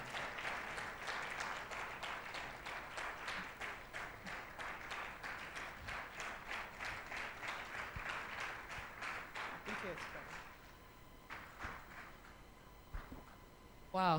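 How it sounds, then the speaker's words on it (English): Audience applause greets a speaker taking the stage, rhythmic clapping that settles into a steady beat before thinning out near the end, with brief voice sounds as it fades. "A round of applause, please."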